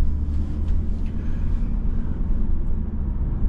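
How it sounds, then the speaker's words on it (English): Steady low rumble of road and engine noise inside a moving 2023 Hyundai Sonata SEL sedan with the convenience package, constant and even with no speech. "we are driving the 2023 Hyundai Sonata SEL with the convenience package"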